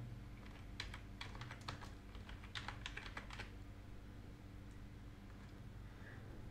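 Keys on a computer keyboard are tapped in quick irregular bursts, faint and close, with a low steady hum underneath and short pauses between clusters of strokes.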